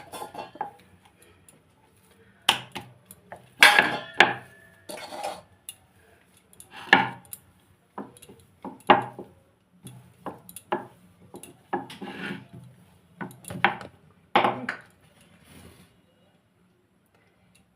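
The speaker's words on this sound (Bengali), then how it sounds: "যেগুলোর মধ্যে আমি আলুর পুর দিয়েছি সেইগুলো বেলে নেব" Potato-stuffed aloo paratha dough is rolled out with a rolling pin: a quiet, irregular run of wooden knocks, taps and clacks, spaced out with brief pauses between strokes.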